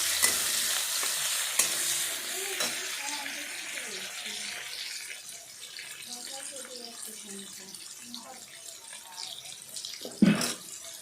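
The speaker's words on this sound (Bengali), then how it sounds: "পেঁয়াজটাকে ভালো করে ভাজতে হবে তেলটার মধ্যে দিয়ে তারপর দু চারটে লঙ্কা দিয়ে ভাজতে হবে" Onions and a few chillies frying in oil for a banana-flower curry, a steady close sizzle with occasional stirring scrapes and a sharper clatter near the end; no one speaks.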